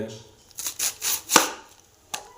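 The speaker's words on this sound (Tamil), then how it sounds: "ரெண்டாக கட் பண்ணுறோம்" A knife cutting through a cabbage with several crunchy chops, then a sharper crack as it splits in two, recorded close in a home kitchen with no voices.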